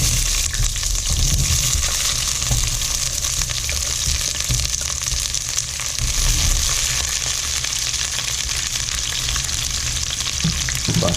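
Sliced onions, two small ones halved and sliced, fry in hot oil for a Goan pork vindaloo, giving a steady, loud, continuous sizzle with light crackle throughout, no talking.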